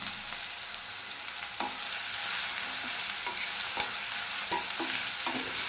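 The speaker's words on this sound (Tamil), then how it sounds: "நல்லா ஃப்ரை பண்ணிக்கணுங்க." Onions and masala frying in a pan while being stirred, a continuous hissing sizzle with periodic soft scrapes and clinks of the spatula, close and steady throughout.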